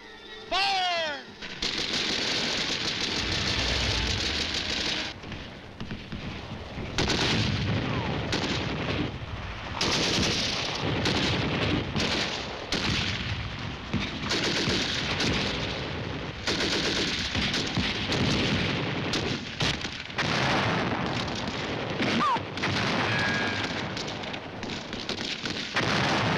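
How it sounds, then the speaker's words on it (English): Rifle gunfire rings out as troops commence firing, with loud, irregular bursts of rapid shots and crackling volleys that continue throughout, dense and sustained, occasionally pausing briefly before resuming. "Commence firing!"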